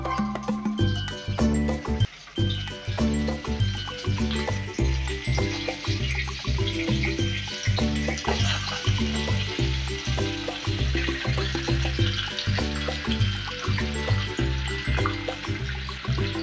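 Chicken pieces fry in a pan with whole spices such as cardamom and peppercorns for a chicken rezala, a steady sizzle running throughout beneath prominent rhythmic background music.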